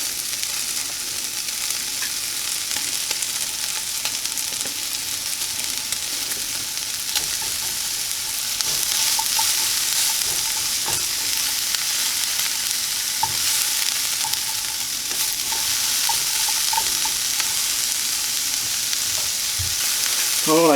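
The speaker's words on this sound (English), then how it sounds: "now I'm going to go ahead and I'm going to add the mushrooms" Baby portobello mushrooms fry and sizzle steadily in an omelet pan, stirred now and then, a continuous close, bright crackle with occasional scraping knocks and no talking.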